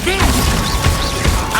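Confringo fire spell cast in the video game Hogwarts Legacy: a quick run of crackling, whooshing bursts with thumps over busy game ambience, under a shouted voice.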